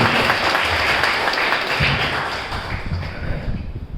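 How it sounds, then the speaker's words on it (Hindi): An audience at a yoga talk breaks into strong applause, dense close clapping from a room full of people that holds steady and then thins slightly toward the end, with no talk. "जोरदार तालियां उनके लिए"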